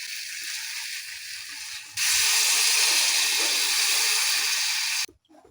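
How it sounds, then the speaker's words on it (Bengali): Water is poured into a hot pan of frying vegetables with cumin and coriander paste. A soft sizzle jumps into a loud, close, steady hiss of steam, which cuts off abruptly after a few seconds. "সবজি ভেজে জল দিয়ে দিয়েছি"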